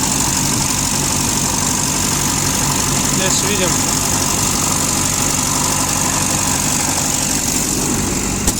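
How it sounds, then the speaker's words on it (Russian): Komatsu FG30 three-ton forklift engine idling steadily and evenly, a constant close rumble running through the whole clip while someone talks over it. "что двигатель работает ровно"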